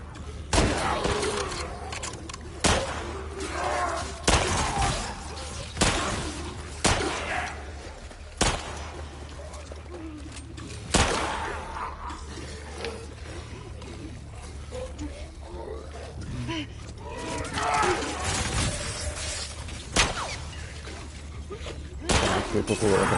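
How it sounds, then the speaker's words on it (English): Gunfire aimed at infected enemies in The Last of Us Part II: bursts of sharp shots, some in quick runs and some single, spread through the stretch over a steady game ambience with scattered growls and impacts. "so I guess I better just shoot them."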